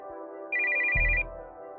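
Phone ringing in the game Aedyll's Hope's Journey, a short bright electronic trill over a sustained musical tone, ending with a low thump, alone without speech.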